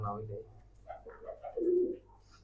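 Pigeons coo in low, throaty bursts, fairly close, with a steady low hum running underneath.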